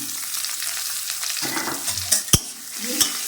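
Chopped onion and chili hit hot oil in a pan already spiced with cloves, cinnamon and cardamom, sizzling steadily while a utensil stirs and scrapes, with a few sharp clinks near the end.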